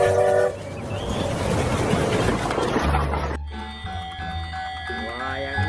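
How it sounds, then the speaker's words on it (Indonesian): Toy train circling its track with a clattering, rattling run and toy horn toots, close by, then a shift to electronic toy tones, with a voice talking over it. "Wah, kita lihat kereta apinya lagi berputar teman-teman."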